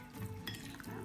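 Fish roe paste (mắm cá linh) stirred in a bowl makes a brief, soft, wet, squelching scrape that lasts about a second.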